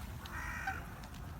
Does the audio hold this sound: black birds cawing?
yes